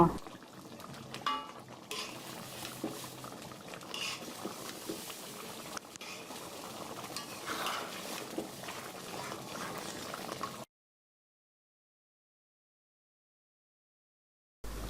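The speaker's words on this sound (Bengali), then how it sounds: "ভালো করে নাড়াচাড়া করে মিশিয়ে দিচ্ছি" Spiced beef curry bubbles and is stirred in a pot, giving a steady faint simmering and scraping texture for about ten seconds before it drops to silence.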